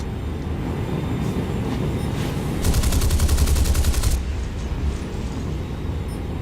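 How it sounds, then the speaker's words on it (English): Rapid bursts of aircraft cannon and machine-gun fire from other jet fighters in War Thunder arcade air combat, a dense rattling volley of about a second and a half rising above a steady engine roar, with no talking. "I think that's all the other guys, or he might be shooting at me"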